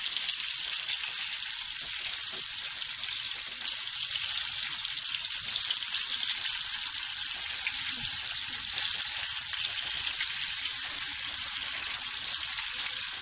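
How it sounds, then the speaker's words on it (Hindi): Fish frying on a tawa, restaurant style: a steady, even hiss of hot oil with faint crackles, continuous and close, with no talking. "कितनी अच्छी हमारी फिश जो है वो फ्राई हो रही है।"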